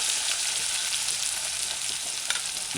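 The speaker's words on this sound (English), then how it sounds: "Allow it to saute 30 seconds between 40 seconds." Ingredients for a corn and salted codfish stew sauteing in hot oil, a loud, steady close sizzle with faint stirring scrapes and no voices.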